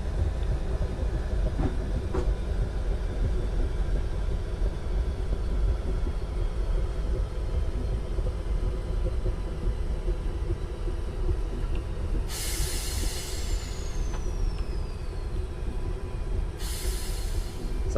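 An 8-car Network SE electric train in Train Simulator 2019, on the London Bridge to London Victoria route via Crystal Palace, gives a steady low rumble throughout, with two sharp bursts of air hiss near the end.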